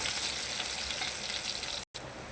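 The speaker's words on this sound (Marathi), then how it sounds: "कांदा लाल होईपर्यंत तळूया." Onion frying in a pan, a dense, even sizzle heard close up that breaks off for a moment near the end and then resumes.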